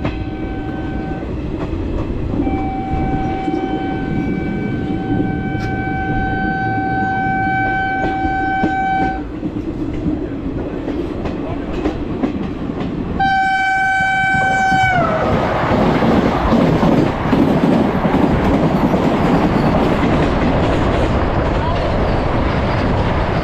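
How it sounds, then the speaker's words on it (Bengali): The Kanchenjunga Express rolls into Dalkhola station with a steady rumble and clatter of wheels. Long sustained horn blasts sound, first one held tone, then a louder, closer blast before the noise thickens as the train passes. "এই মুহূর্তে আমরা ডালখোলা স্টেশনে ঢুকছি"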